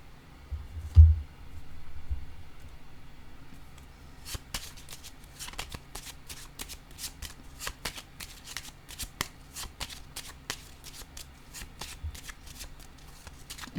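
Tarot cards being shuffled by hand: a faint thump, then a long run of quick, soft riffling snaps close by, irregular and quiet.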